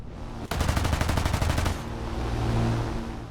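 Aircraft machine gun fire from a Brewster Buffalo fighter, heard as a loud, rapid rattling burst of about a second and a half that cuts off abruptly into a lingering rumble.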